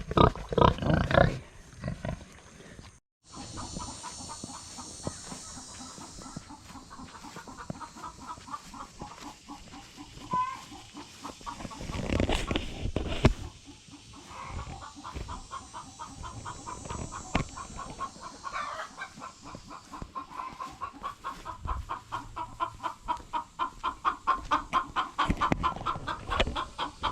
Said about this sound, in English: I got a chicken clucking behind me.